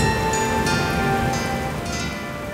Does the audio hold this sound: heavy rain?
yes